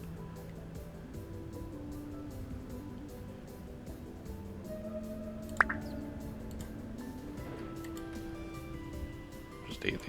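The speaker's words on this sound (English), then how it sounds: "Yep, I can hear the rift." A faint, wavering low drone from a temporal rift in the game Vintage Story hums quietly and steadily, with a few soft ticks and clicks scattered over it.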